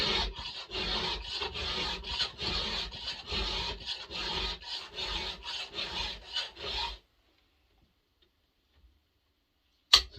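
A hand file rasps across chainsaw teeth in quick rhythmic strokes, about a dozen and a half close, gritty swipes over seven seconds, then silence broken by one sharp knock.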